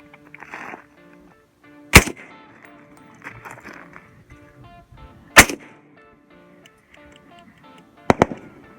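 A 300 AAC Blackout rifle fires three sharp, loud shots a few seconds apart at an outdoor gun range, with quieter handling noises and faint background sounds between them.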